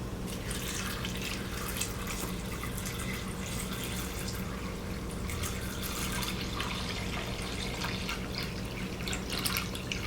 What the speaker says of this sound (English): And that's just cold tap water.